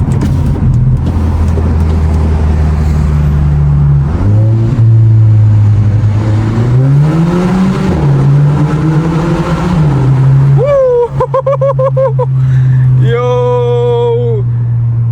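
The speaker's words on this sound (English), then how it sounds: "Hopefully you guys can hear my car." A car engine revs hard inside a cabin with the sunroof open, near and loud, with the pitch climbing and falling over several surges before sharp higher revs near the end.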